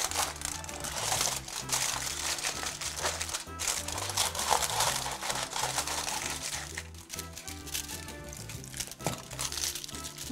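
Paper is folded and crinkled around a Christmas pudding with candied fruit, making continuous loud close crackling and rustling throughout with no talking.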